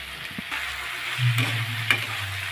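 Flattened rice with grated ginger fries in a pan and is stirred over a bright, hissing sizzle. A scrape and a low rumble come partway through, with no voices.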